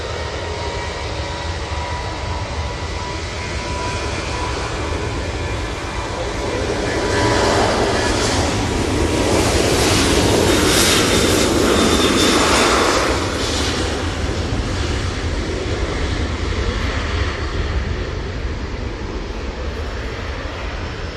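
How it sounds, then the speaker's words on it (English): A propeller airliner, a Qatar flight from Belfast, on short final into Manchester Airport makes a sustained engine drone that swells to a loud peak midway, then eases off, over constant low rumble. "First prop of the day is on short final now."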